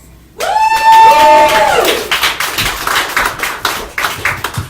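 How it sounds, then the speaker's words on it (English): Live crowd applause at a comedy show, rising sharply from near silence into a loud, sustained burst of clapping that then breaks into scattered, uneven claps as it tapers off. "Another round of applause"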